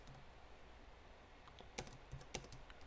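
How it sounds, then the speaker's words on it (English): Quick keystrokes on a computer keyboard, typing a short preset name, with soft irregular clicks and two sharper taps near the end, heard faintly against a quiet room. "Here in preset name, I'm going to type in IG"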